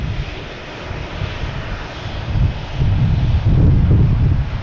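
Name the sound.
Embraer aircraft engine at Boston Logan Airport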